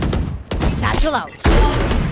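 A satchel charge in the video game Valorant goes off with a sudden, loud, deep boom that lingers, with a voice talking just before it amid other game noise.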